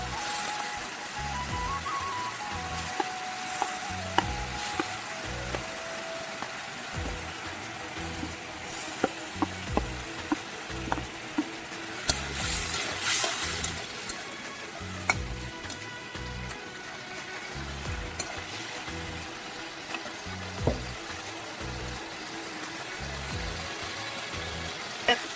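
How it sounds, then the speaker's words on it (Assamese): Small mola fish cooking in a pan with water for an Assamese lunch, giving a soft, steady sizzle and bubbling with scattered light clicks and taps of utensils throughout, close and fairly quiet, with no talking. "আৰু দি দিলোঁ পানী এতিয়া ইয়াৰ মোৱা মাছকেইটা দি দিলোঁ ইয়াত"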